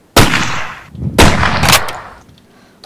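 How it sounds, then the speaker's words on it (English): Two loud gunshots from a gun in the Minecraft Flan's Mod game, sharp close blasts about a second apart, each trailing off in a short rumble, with a third starting at the very end. "I just had to shoot with one gun."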